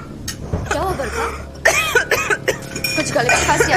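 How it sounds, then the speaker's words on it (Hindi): A few sharp coughs and throat-clearing bursts cut through a room with background talk and a faint clink of dishes. "कुछ गले में खांसी आ गया?"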